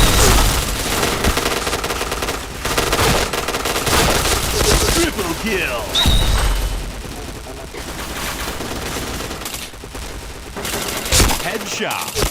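Rapid automatic gunfire from the PointBlank shooting video game rattles almost without a break, bursts crackling close and loud with sharp impact pops in between, while a player talks faintly over the fight.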